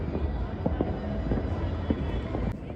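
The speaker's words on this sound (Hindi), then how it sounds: "ये जयपुर में पतंगबाजी के बाद अब लैंटर्न और पटाखों की बारी है।" Firecrackers burst around Jaipur during Makar Sankranti kite-flying celebrations, heard as scattered sharp pops at a distance over a steady hum of background noise.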